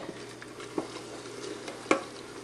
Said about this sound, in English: it's boiling now to where I can't stir away the boil, so I'm going to go ahead and add in my 4 cups of sugar